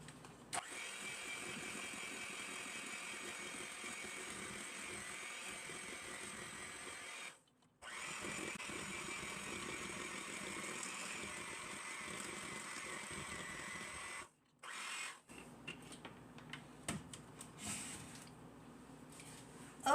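Cupcake batter being mixed with a mixer: a steady, fairly loud motor whir that runs continuously, drops out twice for a moment, then becomes choppier in short bursts toward the end.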